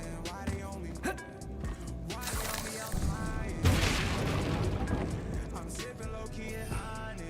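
A Bombarda spell in Hogwarts Legacy detonates with a loud booming blast and rolling crackle, preceded by a voice casting it, with layered game music and effects around it.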